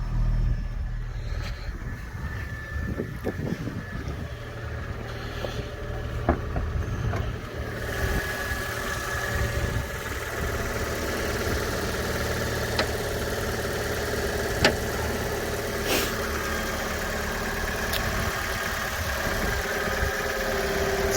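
A Fiat 500 engine idles at close range with its exhaust running, a steady low rumble and hum throughout, with a few faint clicks and knocks on top and no talk.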